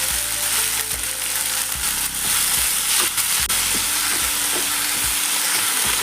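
Onions and tomatoes sizzle and fry loudly in a hot pan, a continuous crackling hiss, with occasional scrapes and knocks of a spoon stirring.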